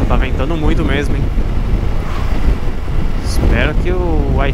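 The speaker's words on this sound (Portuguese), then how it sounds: "Nossa, tá ventando muito mesmo," Strong wind roars and buffets the microphone in a low rumble, with people talking over it.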